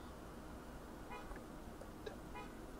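A few short car horn toots sound at moderate distance over a steady background rumble, with faint game-like ambience, in the video game Arma 3.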